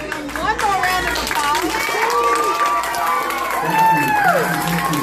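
An audience at a school beatbox battle gives a DJ a steady round of clapping and cheering, a continuous wash of applause with voices rising over it.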